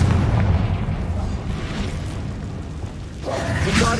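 The Confringo fire-blast spell goes off in Hogwarts Legacy with a heavy, rumbling boom that fades slightly, then a fresh burst swells up near the end.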